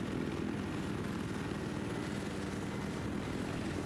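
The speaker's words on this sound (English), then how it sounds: "let's jump into this chopper battle here" A helicopter in a Battlefield 4 match drones in a constant, dense rotor and engine roar, loud and unbroken throughout with no voices over it.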